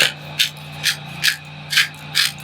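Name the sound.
grinding Italian seasoning onto food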